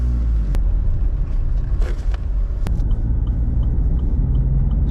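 Land Rover driving on an open road, a loud steady low engine and road rumble from inside the vehicle with a few sharp knocks and clicks.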